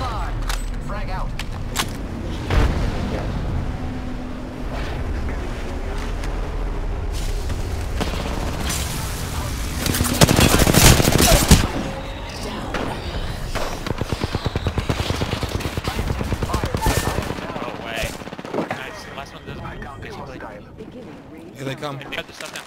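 Chaotic video game firefight in a battle royale match, with bursts of gunfire and a heavy grenade blast that peaks midway, all running under excited voices calling out to teammates.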